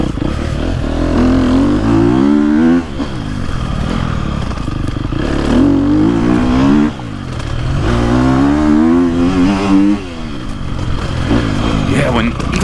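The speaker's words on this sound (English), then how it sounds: "Even when you rev it up and you back off the throttle, you're not getting any of that normal four-stroke engine braking." A KTM 250SXF four-stroke dirt bike engine revs repeatedly on a woods trail, rising and falling in rhythmic throttle surges with brief drops between pulls, loud and close, under a rider's talk.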